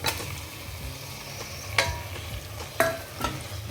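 Marinated chicken sizzles in a hot pan, with a few sharp clinks and scrapes from stirring over the steady frying hiss.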